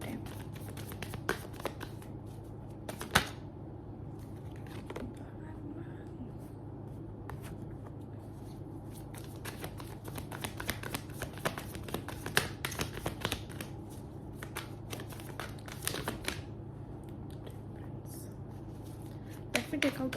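A deck of cards for a crush reading is shuffled steadily for about twenty seconds, with soft, crisp riffles and flicks close up and a quiet voice faintly in the background.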